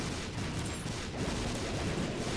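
Dense bursts of explosions and rapid shooting from the video game The Binding of Isaac: Afterbirth+, a continuous loud barrage of game effects with no break throughout.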